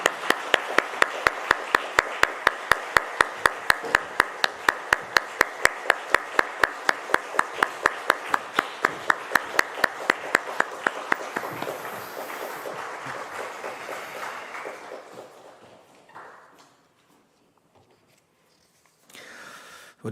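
A church congregation claps together in steady, rapid rhythm, loud and sustained for about eleven seconds before the applause thins out, scatters and fades to near silence, with a brief rustle at the very end.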